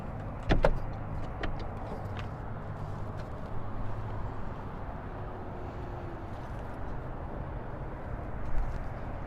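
Rear door of a Promaster or Sprinter camper van swings open with a hitch-mounted bike rack attached, giving a couple of sharp latch clicks and knocks over steady outdoor background noise, then a soft thump near the end.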